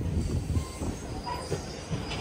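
A Venkatadri Express train runs through a station without stopping, a steady loud rumble of wheels and carriages with faint squeals, continuous and close throughout.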